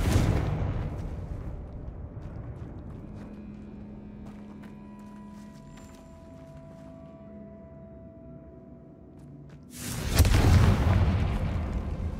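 A Confringo fire spell bursts in Hogwarts Legacy: a loud, close explosive boom near the end after a quiet, tonal ambient stretch, with its rumble continuing to the cut.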